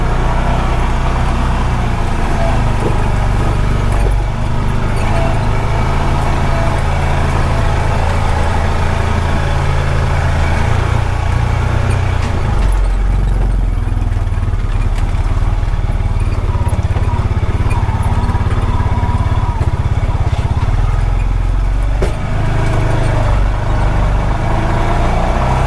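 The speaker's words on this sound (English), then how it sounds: "Hear that exhaust rattling?" A vehicle engine idles loudly and continuously, its exhaust giving off a rough, rattling rumble that holds steady throughout.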